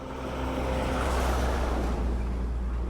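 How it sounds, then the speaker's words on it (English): A chicken bus, a repurposed school bus used for public transport in Nicaragua, rumbles along a beach road, its heavy low engine noise swelling steadily as it passes close by, with no talking. "Chicken bus from the beach."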